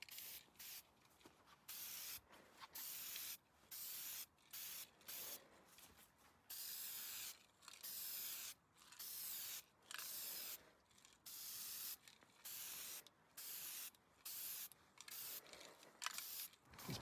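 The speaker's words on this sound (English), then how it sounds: "spray it with rust encapsulator, and then go over it with the Eastwood Chassis Black" Repeated bursts of aerosol rust encapsulator spray hiss onto a rusty Mercedes R107 SL seat base, each lasting about half a second to a second, separated by short pauses, close and fairly loud.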